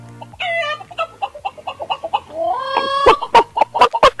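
A person imitates a chicken with rapid clucking and squawking calls, rising into louder, sharper cackles toward the end, heard close and alone.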